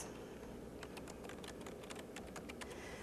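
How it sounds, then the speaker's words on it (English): Quick, irregular clicks of a computer keyboard as a search term is typed in a school library, crisp and close against a faint steady room hum. "I'm just typing in Tiananmen."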